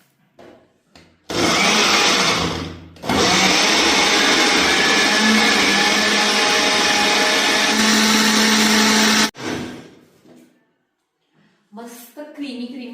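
A kitchen mixer jar whirs loudly while blending apple, creamy milk, honey, sugar, saffron and dry-fruit powder, running in two long bursts with a brief pause between, the motor pitch shifting slightly as the drink thickens.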